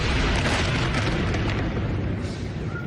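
A building is brought down by missile strikes and follow-up fire, heard as dense continuous roaring blast noise with rumbling low end, loud and sustained without distinct separate booms.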